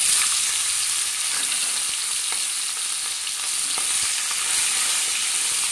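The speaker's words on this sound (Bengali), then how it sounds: "এবার নেড়ে চেড়ে চিংড়ি মাছটাকে হালকা ভেজে নেব" Salt-and-turmeric-coated prawns fry in hot oil with nigella seeds, a steady close hiss and sizzle with faint stirring clicks throughout.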